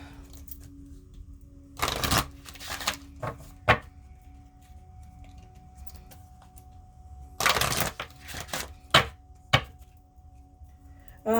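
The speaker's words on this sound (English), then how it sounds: "as I'm shuffling, I'm drawn to the bottom of the deck." A deck of tarot cards is shuffled in two clear bursts of riffling and flicking, separated by quieter handling, with a faint steady hum underneath.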